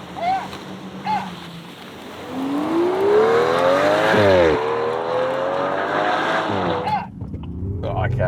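A V12 Aston Martin and an MG Cyberster launching side by side in a drag race, an engine note rising steadily in pitch through the gears, loud and close, after brief speech at the start.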